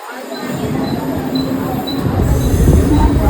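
Mumbai local electric train running on the rails, a steady loud rumble of wheels and carriages close by, growing slightly heavier toward the end, with no voices over it.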